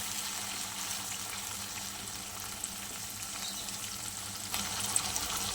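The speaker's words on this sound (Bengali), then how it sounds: "আমি একটু অল্প চিলি ফ্লেক্স দিয়ে দিয়েছি। চলো হালকা ভেজে নিই।" Chicken satay pieces with a few chilli flakes fry gently in a pan, giving a soft, even sizzle at moderate distance with a faint clink near the end.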